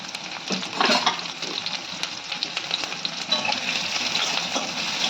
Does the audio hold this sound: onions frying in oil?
yes